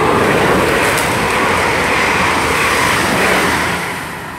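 Passenger train bound for Weymouth passing at Beaulieu Road station, a loud continuous rushing rumble of wheels on rails that fades away near the end.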